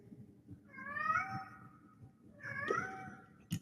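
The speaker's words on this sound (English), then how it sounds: "I have a cat." A domestic cat meows twice, long drawn-out wails close by, with a short sharp noise right at the end over a low background hum.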